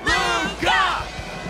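A video game fight arena crowd yells and whoops after a cage bout. The shouting comes in loud bursts of voices and rises and falls over a rumbling background.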